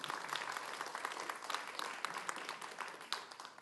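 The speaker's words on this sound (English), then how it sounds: "round of applause" An audience at the Calgary Ward 7 debate in Montgomery claps in a steady round of applause, a faint, even patter of many hands throughout.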